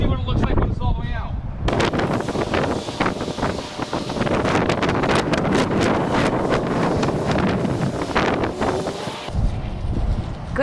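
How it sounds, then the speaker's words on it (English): Strong wind buffets the microphone outside a small motorhome with its awning fully extended, a loud, continuous roar that never lets up from start to finish. "this wind's crazy today"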